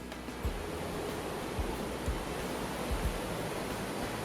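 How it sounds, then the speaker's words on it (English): A river rolls past a riverside beach at a coffee farm eco-lodge in the Intag Valley, a steady broadband rushing of water with occasional low thumps, continuous and fairly close. "enjoy the sight and sound of the river rolling by"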